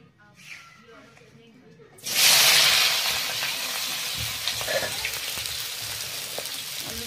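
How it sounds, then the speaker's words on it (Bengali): Pointed gourd and potato pieces drop into hot oil, a sudden loud sizzle bursting in after quiet and settling into a steady crackling hiss close by. "তেলটাও গরম হয়ে গেছে, এটার মধ্যে এখন পটল আলুটা ভাজবো"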